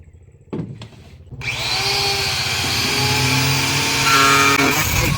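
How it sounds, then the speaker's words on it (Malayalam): An angle grinder cuts a scrap item marked up for a homemade plant pot stand: a few short clanks, then the motor spins up into a loud, sustained whine that rises in pitch near the end. "നമ്മൾ ഗ്രൈൻഡർ യൂസ് ചെയ്ത് നമ്മളിത് കട്ട് ചെയ്തിട്ടാണ്"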